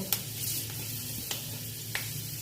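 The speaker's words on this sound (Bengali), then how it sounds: "ফোড়নটা একটু ভালো করে ভেজে নেব" Whole spices for phoron frying in hot oil for laal sukto, a steady close sizzle with a few faint pops and the light scrape of stirring, no voices.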